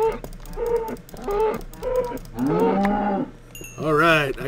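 A cow in the Minecraft video game moos repeatedly in drawn-out, wavering calls, loud and close, with a game sound effect chiming in near the end.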